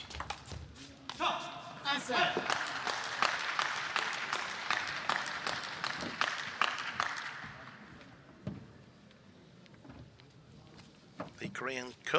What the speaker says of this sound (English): The Korean coach applauding very enthusiastically.